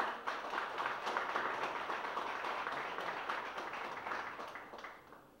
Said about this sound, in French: Je vous demande une dernière fois de bien vouloir applaudir chaleureusement tous mes collègues et partenaires